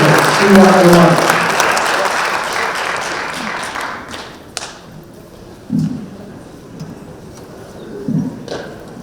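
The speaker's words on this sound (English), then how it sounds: "Give yourself a round of applause, please." Applause from a civic audience at a State of the City address, dense clapping loudest at the start and tapering off over several seconds, with scattered voices and a few thumps as the crowd settles.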